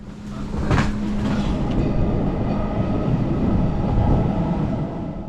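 A Berner Oberland private mountain railway train runs from Interlaken Ost toward the Jungfrau region, heard from inside as a steady, loud rumble of wheels and carriage with a faint squeal early on and no voices.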